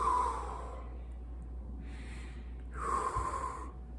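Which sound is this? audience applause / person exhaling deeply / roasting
person exhaling deeply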